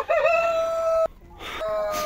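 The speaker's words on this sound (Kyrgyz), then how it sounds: "Корозу ушундай экен" A rooster crows once, close and fairly loud, a strained rising-then-steady call broken off abruptly, with a shorter second burst of crowing right after.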